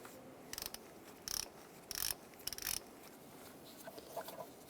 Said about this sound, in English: Use an E10 socket to take those out.